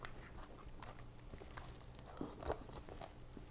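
Someone eating khao piak, the Hmong noodle porridge, at close range, with soft chewing, biting and slurping mouth noises and a couple of louder wet bites near the end, against a faint room background.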